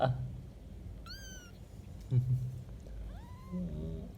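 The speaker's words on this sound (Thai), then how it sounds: "เป็นแมวที่ชอบเล่น" A kitten about twenty days old gives a few short, thin meows spaced over several seconds against a quiet indoor background, with a low rumble now and then.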